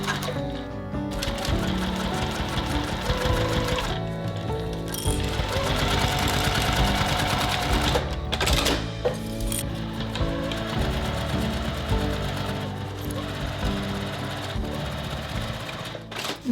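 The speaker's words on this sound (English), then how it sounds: "we're going to sew along this line at our sewing machine" A sewing machine runs in a long, steady whirring buzz of rapid stitching along a fabric seam for a coin pouch, pausing briefly a few times before starting up again.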